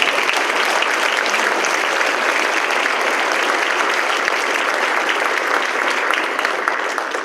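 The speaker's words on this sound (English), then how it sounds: "Please clap for that." Dense, steady applause from a large audience at a university campus launch event, continuous and loud for several seconds with no break or talk over it.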